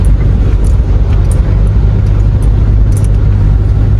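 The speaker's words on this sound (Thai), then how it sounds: "ตอนนี้กำลังขับรถผ่านสะพานการจนาพิเศษครับ" A car drives across the Kanchanaphisek Bridge on the way to Chonburi, a steady loud low road rumble with engine hum and tire noise running continuously throughout, no voices.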